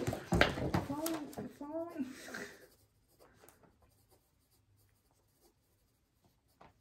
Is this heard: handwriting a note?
yes